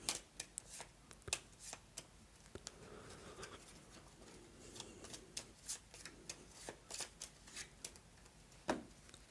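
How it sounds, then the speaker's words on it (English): Game cards for the board game Gravwell being shuffled by hand, a string of crisp snapping riffles and taps at close range in a quiet room. "I'll give them a cursory shuffle."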